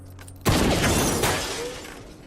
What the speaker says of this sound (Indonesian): Membuat televisi hancur berkeping-keping.